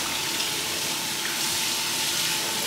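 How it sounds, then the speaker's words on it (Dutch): Tap water runs steadily at a campsite sink while dishes are washed, making a continuous close hiss and splash with no pauses or voices. "Maar eerst even afwassen."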